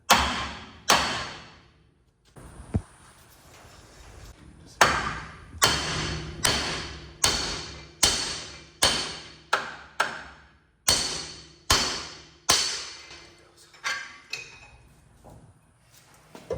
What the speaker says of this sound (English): This one's loose, got a little bigger hammer.